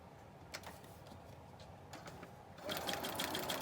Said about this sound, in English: I'm going to pop over here to my sewing machine.